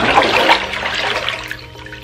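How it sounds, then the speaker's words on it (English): Water sloshing and swirling in a bath as a person goes underwater, a close, loud gush and churn that gradually settles into softer trickling. "Now I'm gonna go underwater."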